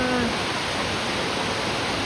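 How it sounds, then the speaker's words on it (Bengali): Heavy rain pouring down on a dark, flooded street with knee-deep water, a dense, steady broadband hiss that fills the whole short stretch with no break. "কঠিন বৃষ্টি হচ্ছে।"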